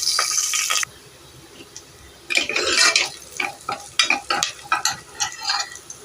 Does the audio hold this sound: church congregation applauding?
no